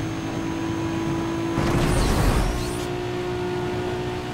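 A Nissan Skyline in Need for Speed Most Wanted with a modded exhaust, its engine droning steadily and swelling into a brief louder roar midway before settling back to a constant hum.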